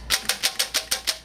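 An acoustic guitar strummed with a dollar bill threaded between the strings gives a dry, buzzy snare-like rattle, seven quick even strokes close up with no talking.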